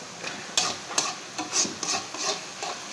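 Onions with turmeric and chili powder are stirred in a pan with a spatula, giving repeated rasping scrapes in an uneven rhythm over a soft steady hiss.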